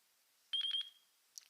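A short electronic beep from a Taranis radio controller, quick pulsed tones ending in a steady high note, faint and alone in a quiet room; it repeats every ten seconds during video recording.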